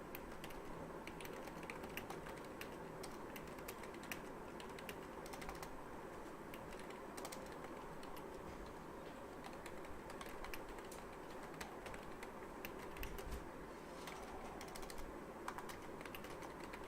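Continuous typing on a computer keyboard, dense rapid clicks running steadily throughout at close range with no talking.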